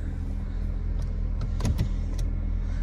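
A 1985 Mazda 929 hatchback sedan idles with a steady, low engine hum throughout, broken by a few short clunks from the transmission as it is shifted into gear.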